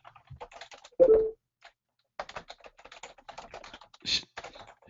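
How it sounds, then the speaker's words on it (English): Rapid clicking keystrokes on a computer keyboard come in irregular bursts close to the microphone, with a brief louder knock near the start and a short pause partway through. "Someone's typing."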